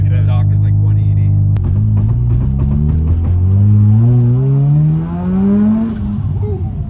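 A Mazda RX7 rotary engine with an EFR turbo runs loud and close, its droning tone rising steadily as it revs up, then dipping briefly before climbing again.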